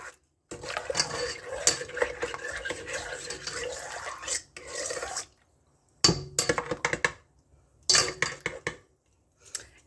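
A spoon stirs sugar into a yeast mixture, making a busy clinking and scraping against the container in several bursts, separated by short silent breaks.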